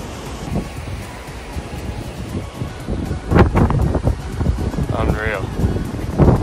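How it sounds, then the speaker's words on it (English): Strong wind roars and buffets the microphone in heavy gusts on the 1770 Headland, growing louder toward the end, with a voice breaking through briefly. "Windy as hell, as to be expected"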